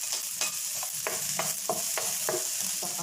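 Ginger and garlic frying in a pan, a fairly quiet continuous sizzle with a regular series of spatula scrapes and taps against the pan, no one speaking.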